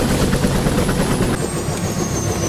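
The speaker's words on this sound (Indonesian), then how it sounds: "mereka menumpang helikopter untuk menempuh jarak 100 km menuju pedalaman hutan Papua Barat" A helicopter flies toward the interior forest of West Papua, its rotor and engine producing a loud, steady, close drone with no talk over it.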